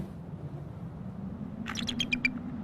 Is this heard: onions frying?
no